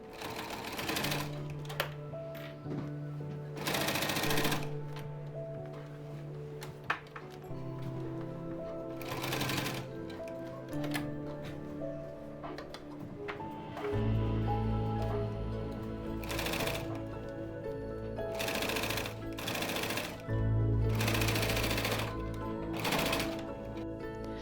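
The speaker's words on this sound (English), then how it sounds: "I'm going to switch to a walking foot here, and if you're working with a PVC, I highly recommend you doing this as it makes sewing so much easier." Sewing machine fitted with a walking foot stitching PVC fabric for a quilted round makeup bag, running in steady bursts of motor whir and needle clatter with short pauses between runs.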